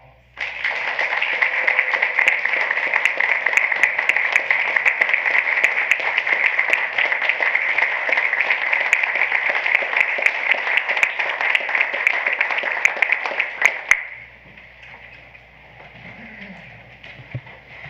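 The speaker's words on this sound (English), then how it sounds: "We'd just like to give you an applause." Sustained, dense applause from an audience at a school board of education business meeting, steady and loud for about fourteen seconds before cutting off abruptly to a quieter room.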